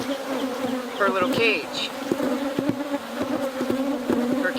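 Honey bees buzz steadily around a queen bee held in a small plastic cage, a close, dense insect drone with wavering pitches, while a person speaks briefly over it.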